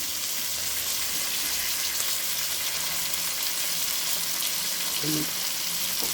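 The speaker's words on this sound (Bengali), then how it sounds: "আলু আর ওলটা ভেজে নিলাম টমাটোটা দিয়ে দিলাম" Potato, elephant foot yam and tomato frying in a pan, a continuous even sizzle with a soft crackle and a brief clink partway through, no talking.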